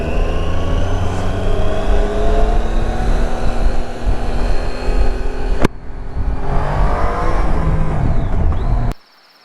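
Triumph Tiger 800 (2017, A2 version) motorcycle engine under way, a steady droning note mixed with heavy wind noise, dipping briefly, then ending abruptly.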